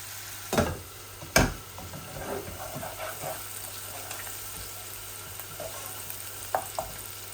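Chicken bhuna, a small chicken slowly frying in a pan: a faint, steady sizzle runs throughout, broken by a couple of sharp utensil clanks near the start and a few light taps toward the end.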